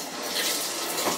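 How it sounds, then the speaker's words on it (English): A home shower runs steadily, a continuous hiss of falling water close by with no voices over it. "My shower water is running."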